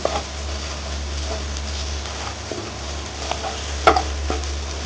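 Prawn curry being stirred in a pot, a soft steady bubbling with occasional scrapes and clinks of a spoon, close by and fairly quiet.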